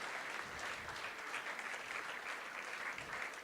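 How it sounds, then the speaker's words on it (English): Steady applause from an audience at a Governor's House ceremony honouring a guest, a dense even wash of clapping filling the whole stretch at moderate, somewhat distant level. "Amidst a good round of applause"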